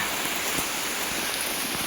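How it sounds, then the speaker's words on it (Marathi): Steady morning rain falls in a continuous, even hiss without pause, fairly loud and close, with no voices over it. "आज सकाळ सकाळी पावसाने हजेरी लावले"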